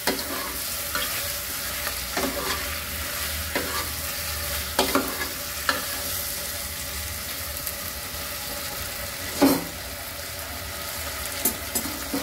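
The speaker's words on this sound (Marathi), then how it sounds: "हे चांगलं परतून घेणार आहोत।" Garlic and coriander paste for a mutton rassa sizzles in a hot pan, with steady frying hiss and occasional scrapes and clinks of a spoon stirring.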